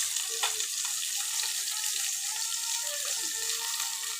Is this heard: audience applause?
no